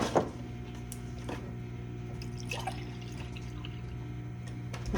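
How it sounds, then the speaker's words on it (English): Hot tea is poured from a pot into a cup in a home kitchen, a soft steady trickle with faint drips over a constant low appliance hum. "pour me a little bit of tea."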